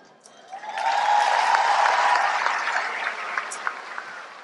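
Audience applause at a university commencement ceremony, a broad steady roar of clapping that swells within the first second, holds for several seconds, then thins slightly with scattered sharper claps near the end.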